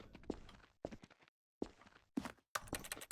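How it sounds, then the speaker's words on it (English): Footsteps in The Stanley Parable, sounding like Garry's Mod style steps: several short bursts of walking separated by brief silent gaps. "I hear those Gmod footsteps."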